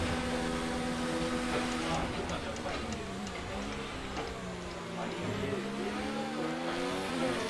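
Engines of several racing cars rev and whine together at game-like pitch in a Formula-style racing video game's US Grand Prix, with a person talking excitedly in Korean over them.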